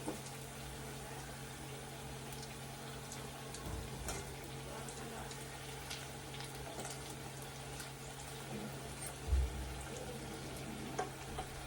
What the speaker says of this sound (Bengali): ভালো করে ভাজতে লাগবে পকোড়াটা।